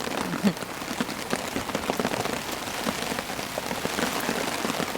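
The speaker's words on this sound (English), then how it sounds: "The rain, all of a sudden, has come on with a fury." Heavy rain pours onto a tent at a campsite during a storm, a dense, steady drumming patter close overhead that holds for the whole stretch without any voices.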